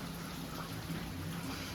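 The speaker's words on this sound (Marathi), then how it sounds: "पाऊस पण चालू झालाय" Steady rain falls in Khed in the Konkan region, a continuous, even wash of hiss with no voices, faint but unbroken throughout.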